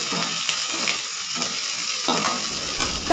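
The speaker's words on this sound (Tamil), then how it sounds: "நம்ம வச்சுருக்க துவரம்பருப்பு உளுந்த பருப்பு ஆட் பண்ணி நல்லா இந்த எண்ணெயிலே வதக்கிக்கணும்" Toor dal and urad dal frying in oil, a dense continuous sizzle with a few louder scraping stir strokes, close and steady for the whole stretch.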